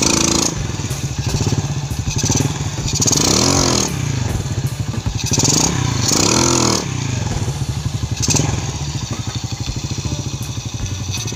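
A Yamaha JZN or Vega ZR motorcycle engine idles nearby on a test ride after clutch setup, with a rattly, rough tone, revving up a few times in rising and falling swells.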